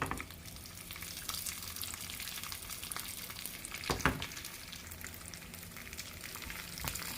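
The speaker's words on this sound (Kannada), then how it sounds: "ಅದರಲ್ಲಿ ನಾನು ಒಣ ದ್ರಾಕ್ಷಿಯನ್ನು ಕೂಡ ಒಟ್ಟಿಗೆ ಹಾಕಿ ಫ್ರೈ ಮಾಡ್ತೇನೆ." Cashews and raisins fry in ghee for carrot halwa, a steady, quiet crackling sizzle with scattered pops and a couple of louder spoon stirs.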